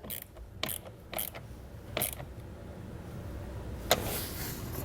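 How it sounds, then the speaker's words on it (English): Ratchet tightening down a part while installing a flat-tow brake system on a 2013 Ford: a few short clicking, ratcheting bursts spaced about a second apart, close by, over a dull garage background with no talking. "Let's go ahead and get that tightened down."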